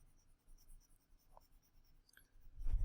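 Marker-board eraser rubbing off maths working from a board, a few soft scrubbing strokes growing louder toward the end, close by with no talking.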